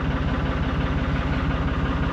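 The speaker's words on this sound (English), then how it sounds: "that's the engine and tick over from the front side" A vehicle engine ticks over at idle, heard from the front, a loud, steady low throb with even rhythmic pulses and no talking.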